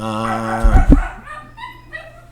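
Dogs barking at a squirrel in a backyard by a pool, a short burst of a couple of loud, close barks followed by fainter yips and whines.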